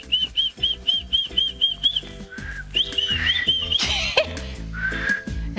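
A shepherd's call whistled by a person: a run of short, evenly spaced high notes, followed by longer rising and falling whistled phrases, close and clear.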